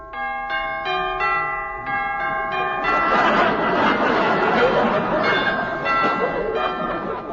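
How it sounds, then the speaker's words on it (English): A doorbell sound effect from a 1949 Phil Harris and Alice Faye radio comedy plays as a run of clear ringing chime notes. A denser wash of sound follows as the notes fade. "I'll ring the bell and see."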